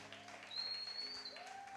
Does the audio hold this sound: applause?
yes